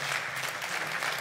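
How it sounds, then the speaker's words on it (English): Audience applause after a talk, a steady wash of clapping from a crowd indoors, even and continuous with no voices on top. "Can we have a big round of applause for Eric Lawyer and Richard Gage?"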